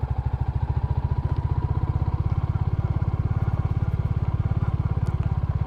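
A Royal Enfield Classic motorcycle pulling in second gear off-road, its single-cylinder engine thumping in a fast, steady loud rhythm close by, with some clatter over the top.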